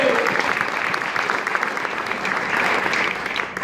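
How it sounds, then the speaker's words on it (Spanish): A congregation at a Spanish-speaking church service applauds strongly, a loud, even wash of clapping from many hands that holds steady for the whole stretch. "Dar otro fuerte aplauso a Cristo en esta mañana."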